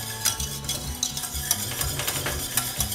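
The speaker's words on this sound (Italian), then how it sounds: "tenendo sempre mescolato e vedendo di non farla attaccare sul fondo." Hot chocolate being stirred as it boils in a pot, with steady scraping and bubbling sizzle that keeps up without a break through the whole stretch.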